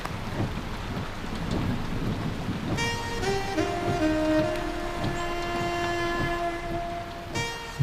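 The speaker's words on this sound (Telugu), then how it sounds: "వర్షం భయంకరంగా పడుతుంది." Heavy rain pours in a steady, dense hiss with low thunder rumbling underneath, then music swells in over the downpour and continues to the end.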